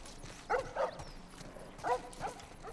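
Dogs bark in The Last of Us video game, a few sharp barks in two bursts, moderately close over a quiet game background with no talk.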